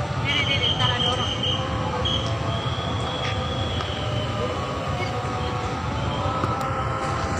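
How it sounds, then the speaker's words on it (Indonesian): A commuter electric train pulls into a station, with a continuous low rumble of wheels on track, a thin high metallic squeal sustained through most of it, and a few faint clanks. "Di sini tuh keretanya berhenti."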